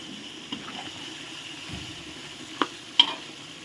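Chicken curry with coconut milk and pickled bamboo shoot sheets is stirred in a pot, making soft wet scraping and mixing sounds with a couple of sharper utensil clinks near the end.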